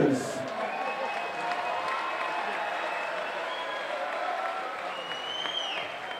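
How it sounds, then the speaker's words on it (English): Crowd applause and cheering at a live cage-fight title event, a steady dense wash of clapping with whistles and shouts, sustained for several seconds with no one speaking over it. "could you please put your hands together for both fighters?"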